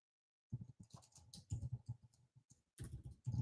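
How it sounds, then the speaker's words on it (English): Typing on a computer keyboard, quiet close bursts of rapid key clicks and taps in an uneven rhythm, separated by short silent pauses. "I'm typing it just in case."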